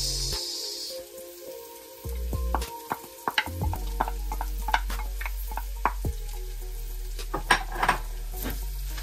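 Garlic and onion sauté in a pan for spaghetti, with a soft sizzle and scattered spatula clinks and scrapes against the pan over a low background hum.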